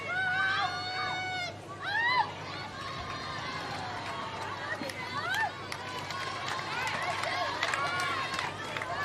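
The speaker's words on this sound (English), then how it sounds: "There is so much enthusiasm and cheering for these teams." Loud, dense crowd noise from spectators cheering at the Newcastle Netball Association 2025 grand final, with shouts and whistles rising over a constant roar that runs through the whole stretch without pause.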